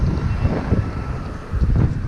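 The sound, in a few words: strong wind during a gravel bike ride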